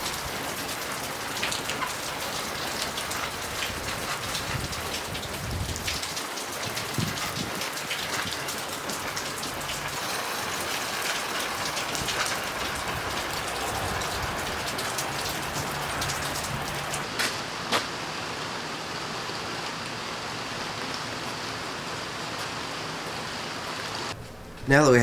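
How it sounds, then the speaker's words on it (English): Heavy rain pours outdoors, a dense continuous hiss of drops hitting surfaces that stays steady and loud throughout with no voices, ending in a brief louder knock. "So I gotta go outside in the pouring rain and spread grass seed everywhere."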